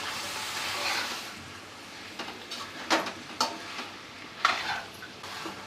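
Field beans and potatoes are stirred into a spice masala paste in a pan, giving a soft steady sizzle with scraping stir strokes at irregular intervals, moderately close.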